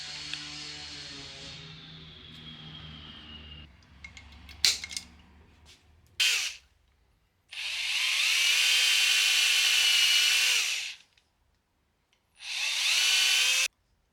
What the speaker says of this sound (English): drill a small hole in the handlebar